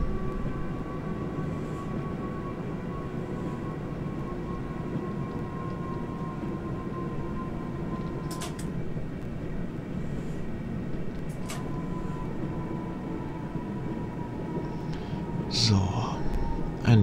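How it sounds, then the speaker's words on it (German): A DB Regio S-Bahn train on the München–Rosenheim line in Train Simulator 2018, braking to a stop. A steady rolling rumble and hum carry on with a faint tone that drops away, and brake hiss and clanks come near the end. "Ein letztes Mal am Fahren Bremshebel ziehen und den Zug zum Stillstand zwingen."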